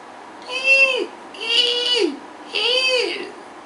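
A voice imitates a mouse being caught by a cat: three high, strained, whining squeaks, each falling at the end, close and fairly loud.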